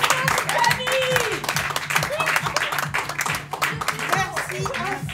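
Audience applause for Camille in a theatre hall during an evening show, clapping running under cheers and voices with music playing through it.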